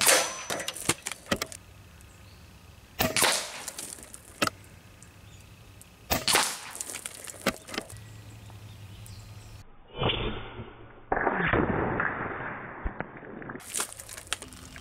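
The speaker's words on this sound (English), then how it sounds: "And now for the grand finale, taking out some styrofoam cups." An Umarex Gauntlet 2 PCP air rifle fires at styrofoam cups 65 yards away, giving a few sharp, loud cracks spaced several seconds apart, each followed by brief rattling and a softer, distant impact.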